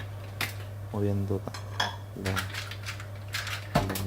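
Seafood for spaghetti ai frutti di mare being sautéed in a pan: metal clanks and scrapes of utensil against pan and shells, with a steady low hum beneath and a few short clatters.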